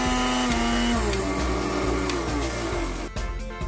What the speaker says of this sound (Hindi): ये यहाँ पर मिक्सर चल रहा है,